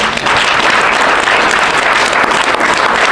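Dense, steady audience applause at a business breakfast gathering, a broad wash of many hands clapping together at fairly close range with no voices over it for the full stretch.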